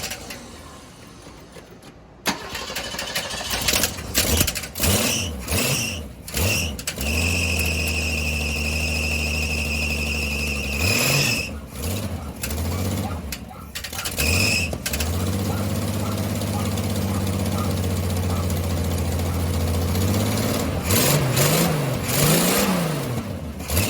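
A 1966 Ford Mustang coupe engine cranks and catches, revs unevenly several times with squealing belts, settles into a rough idle, then revs again as people talk faintly in the background.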